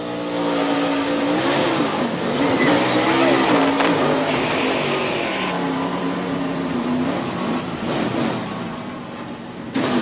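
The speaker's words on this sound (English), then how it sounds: "Hearing that engine rev up generally means the rear wheels are off the ground." A race car engine revs during the Subway Firecracker 250 stock car race, its droning pitch rising and falling in sustained surges, loud and close against a roar of surrounding track noise.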